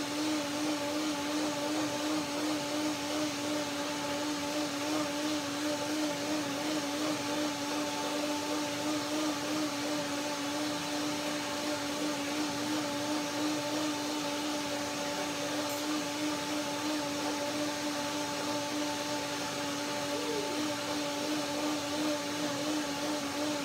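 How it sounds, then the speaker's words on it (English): A blender whirs steadily as it purées a curry, sesame and cashew dressing, a loud continuous motor drone with a humming tone that holds unchanged from start to finish. "Blender dance, number 2."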